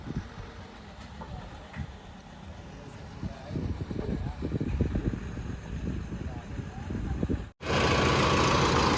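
A tractor engine runs at a steady idle after starting, a continuous low rumble with faint talk over it, then cuts off abruptly near the end before a different noise takes over.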